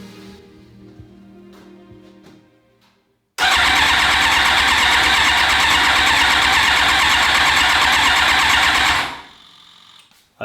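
Yamaha YZF1000R Thunderace motorcycle engine cranking and catching, a loud steady close-up rumble that starts abruptly after a quiet moment, holds for about six seconds, then dies away.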